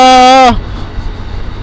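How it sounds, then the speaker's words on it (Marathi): A vehicle horn gives one loud, close, sustained honk on a road ride and cuts off after half a second, leaving a low road and engine rumble. "कोण मारतं हॉर्न?"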